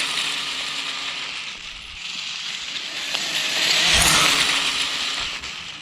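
Brushless motor of a WLtoys 124019 RC car running at full throttle on a 2S battery with timing turned up, a high whine that swells and peaks near the end before easing slightly.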